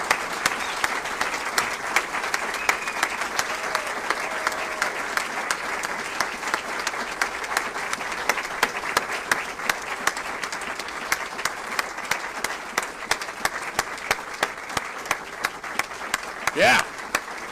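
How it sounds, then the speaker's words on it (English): A standing audience at the 2022 DINFOS Hall of Fame induction ceremony gives sustained applause, a dense, steady wash of many hands clapping that fills the hall, with a few voices and cheers mixed in near the end. "I'll ask you to all stand and give a hearty round of applause for our 2022 DINFOS Hall of Fame"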